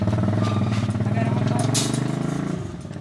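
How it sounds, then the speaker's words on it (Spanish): Motorcycle engine revving and running on a stony dirt track after a storm in rural Yucatán, loud and close with rattling clatter throughout, gradually easing toward the end. "Para visitar a sus abejas recorren en moto 21 kilómetros"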